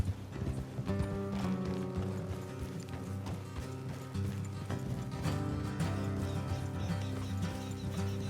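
Steady hoof clip-clop of horses moving along in Red Dead Redemption 2, layered under dense game music and ambient sound, continuous throughout.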